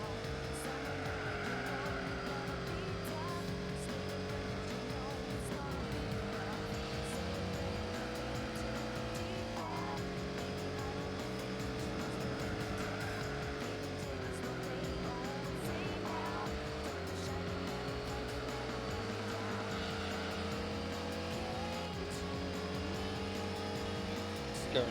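A Peugeot race car engine in Gran Turismo 4 drones loud and steady, pulling strongly through the mid-range with rising and falling pitch across several shifts, while a voice talks faintly underneath.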